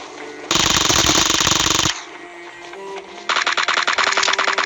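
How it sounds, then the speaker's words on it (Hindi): An M4 rifle fires on full auto in a video game, loud and close, in two sustained bursts separated by a short lull. No one speaks. "मैं फुल एकदम M4 चला रहा था और खाली कर दे रहा था"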